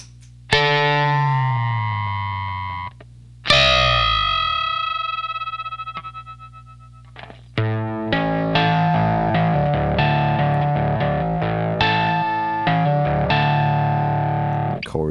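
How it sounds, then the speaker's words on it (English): Electric guitar double stops and chords played through a Zvex Johnny Octave octave pedal, with several sustained, heavily effected notes ringing out alone, close and loud, each new strum cutting in sharply. "But with the Johnny Octave, all kinds of strange things happen."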